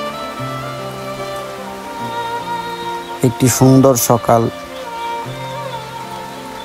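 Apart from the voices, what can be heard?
rain falling in the morning in a village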